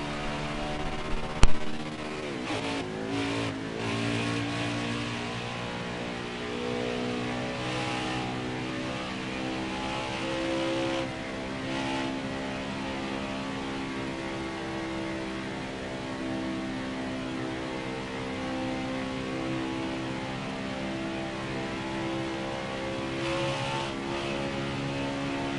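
Race cars on qualifying laps drone past in a steady, sustained engine whine with harmonic layers, one sharp thump near the start, then a continuous moderate hum from a distance without talk.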